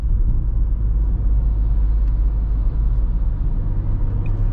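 A 2023 Dacia Jogger with the 1.0 TCe 110 HP engine and 6-speed gearbox driving at night, a steady low cabin rumble of engine and road noise while slowing on a downshift.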